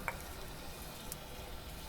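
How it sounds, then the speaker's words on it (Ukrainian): Soft, steady sizzling of pear slices frying in oil in a pan, faint and close, with a small clink near the start. "олії на пательню і груші викладаю"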